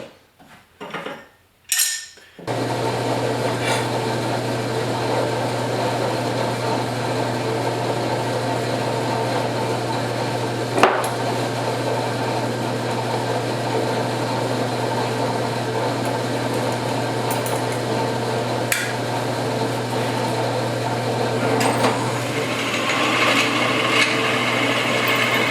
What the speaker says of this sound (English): I'm going to show you how to drill these holes. Well, you can watch me drill them.